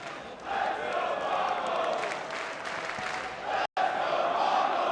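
A large arena crowd at an IEM Dallas 2025 Counter-Strike esports quarterfinal between TheMongolz and Aurora roars and cheers steadily, a dense sustained wash of many voices with a brief cut near the end.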